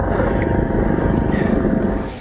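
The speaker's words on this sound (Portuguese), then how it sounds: "20 minutos depois, o helicóptero surge e a passageira acena." A US Coast Guard rescue helicopter approaches over open water, its rotor and engine a steady loud drone that holds throughout without pause.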